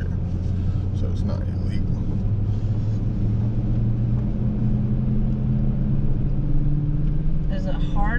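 A car in four-wheel drive climbs a steep mountain road, its engine a low steady drone with a slowly rising pitch that holds through, while people talk faintly in the cabin.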